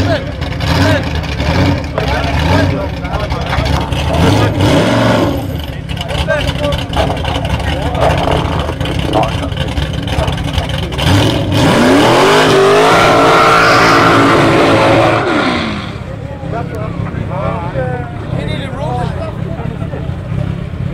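Cars roar and accelerate down a drag strip, including a Ford Scorpio, with a loud sustained engine drone and rising revs throughout, mixed with a commentator's talk.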